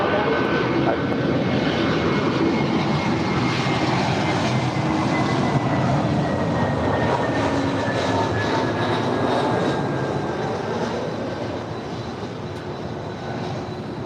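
A 22-year-old Air France Boeing 777-200ER jet at LAX roars loudly and steadily, its engine noise slowly fading near the end.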